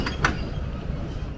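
A tram rolls along the Ocean City boardwalk, a steady rumbling ride noise with a brief sharp squeal or clank early on, heard fairly close with no talking.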